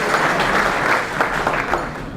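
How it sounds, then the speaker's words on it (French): Applause from an audience at a regional and departmental medal ceremony in Montpellier, a dense, steady patter of many hands filling the space at moderate volume. "sous un tonnerre d'applaudissements, s'il vous plaît"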